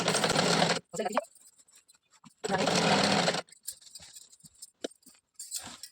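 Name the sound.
sewing machine stitching fabric pleats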